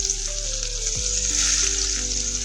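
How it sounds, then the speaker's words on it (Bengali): Chopped onions sizzle loudly in very hot oil in a pan for a fish egg fry, a continuous close crackling hiss with no voices. "তেলটা পুরোপুরি গরম হয়ে গেলে দিয়ে নিব আমি কেটে রাখা পেঁয়াজ।"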